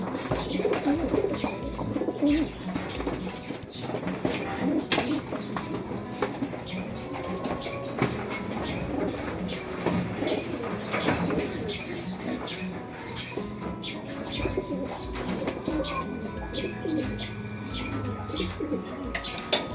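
Pigeons coo steadily through the whole stretch in a busy racing-pigeon loft, mixed with flapping, chirps and a person talking nearby.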